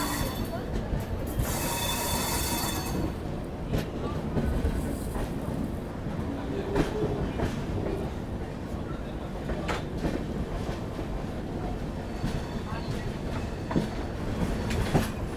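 Falaknuma SF Express pulling away from platform 3 at Kharagpur junction, wheels clattering and squealing over a steady rail rumble, with a loud hiss early on and faint voices in the background.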